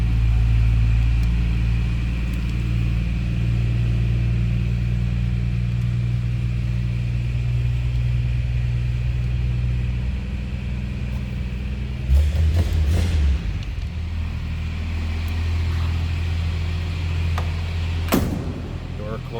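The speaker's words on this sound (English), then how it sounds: "inline 6-cylinder, about 232 cubic" A 1950 Hudson Commodore Six, its inline six-cylinder engine of about 232 cubic inches, idles steadily with a deep, even rumble throughout, broken by a couple of brief thumps such as a door closing.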